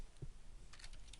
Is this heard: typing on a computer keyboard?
yes